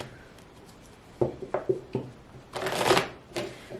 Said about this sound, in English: I'm going to shuffle a bit more and then we will stop.